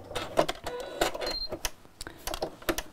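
Sewing machine running slowly through a stretch stitch, giving irregular short bursts of mechanical clatter and needle thumps with brief pauses between, close and moderately loud.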